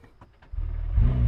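A McLaren Speedtail hypercar's engine fires up after a short quiet pause, settling into a loud, close, deep rumble that swells into a brief rev near the end.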